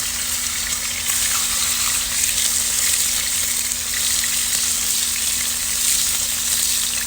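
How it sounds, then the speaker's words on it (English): Steak sautés in hot olive oil in a cast iron pan set on a grill, giving a loud, steady, close sizzle and crackle that holds without pause for about seven seconds, with no talking. "We'll give them a bit of a saute, about a minute on each side."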